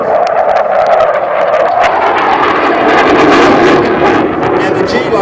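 An RAAF F/A-18 Hornet jet at the Temora airshow roars through an inverted pass. The loud, steady engine rush swells slightly as it passes, with an announcer talking over it.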